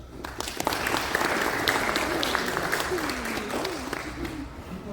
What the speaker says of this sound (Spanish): Damos paso a nuestra invitada, a la cual recibimos con un fuerte aplauso.